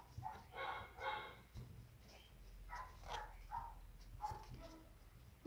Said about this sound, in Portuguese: quem tem cachorro, é assim, late até para os mosquitos